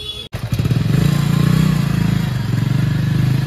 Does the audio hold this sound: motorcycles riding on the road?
yes